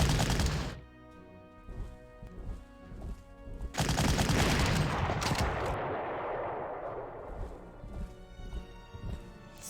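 Artillery fire in the wartime strategy game Panzer Corps: a heavy booming volley with a long rumbling decay, preceded and followed by sharper clattering shots, moderately loud and without talk.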